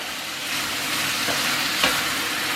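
Leftovers sizzling and frying in a pan while being stirred, a steady loud crackling hiss with a couple of soft scraping stirs, no talking.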